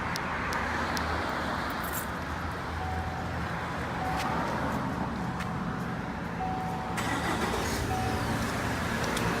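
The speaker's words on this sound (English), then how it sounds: "the car is running by remote control" A 2016 Chevy Silverado idles after an Excalibur remote start, a steady low engine hum with outdoor road noise around it and a few short beeps.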